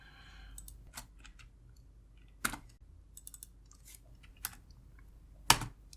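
Keys clatter on a computer keyboard while text is typed into Microsoft Word, with sparse, irregular clicks and a few sharper strikes, close and fairly quiet with no talking.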